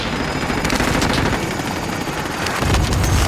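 Continuous, loud automatic gunfire in a shooter game, dense bursts close by with a steady rumbling backdrop, heaviest near the end.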